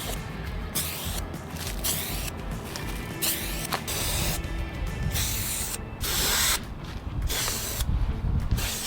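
Enamel paint is sprayed from a can onto a camper's rock guard: close, hissing bursts of spray with brief pauses between them, several passes in a row, and no voices.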